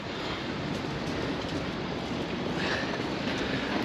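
Train interior at East Croydon station: a steady broadband rumble and rush of the moving carriage fills the whole stretch, with a faint higher whine entering near the end and no voices.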